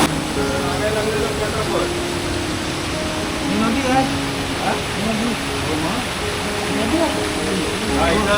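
Forceful river water rushes among big rocks in a forest, a steady broadband roar throughout, with someone talking over it.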